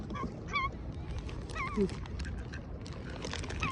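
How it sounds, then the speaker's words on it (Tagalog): Ducks by a bay squabble while being fed, giving several short honking quacks at close range over a rough outdoor background. "Okay, I will give it to the ducks right here."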